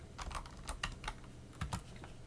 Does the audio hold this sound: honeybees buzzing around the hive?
no